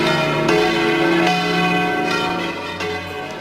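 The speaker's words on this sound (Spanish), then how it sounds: "Las campanas eran el cántico que reflejaba la independencia, la libertad y la igualdad de todos los hombres." Church bells ring out in several loud, overlapping strikes whose long resonant tones layer and decay together, with no talk.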